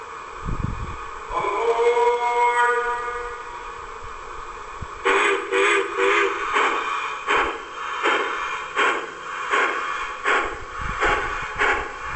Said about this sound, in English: digital controlled locomotives, mostly because of the sound effects, which are really quite good.